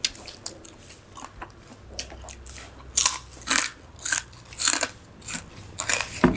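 Someone eats a big mouthful of Thai papaya salad with cooked shrimp and fresh vegetables, heard up close as wet, crunchy bites and chewing in a series of distinct bursts.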